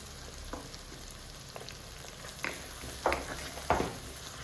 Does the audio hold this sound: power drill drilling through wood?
no